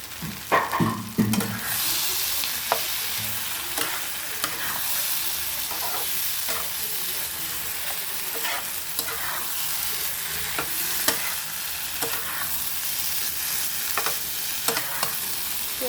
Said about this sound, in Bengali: ভালো করে মশলার সঙ্গে কষিয়ে নিতে হবে, ভাজা করে নিতে হবে